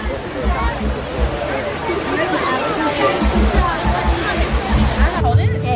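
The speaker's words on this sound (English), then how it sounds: "Next up is the Navi River Journey." Splashing, cascading water surrounds the Na'vi River Journey boat ride at Disney's Animal Kingdom, loud and continuous, with a murmur of crowd babble mixed in.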